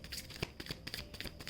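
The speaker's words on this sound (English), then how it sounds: "and we will just shuffle once" Tarot cards shuffled by hand, a quick run of soft papery riffles and taps close up with no talking.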